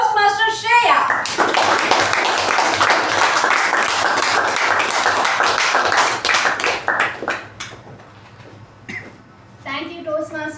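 Members of a Toastmasters club meeting give a lively round of clapping to welcome their new club president. The hand claps are close and sharp, then thin out and fade, with voices speaking briefly at the start and again at the end.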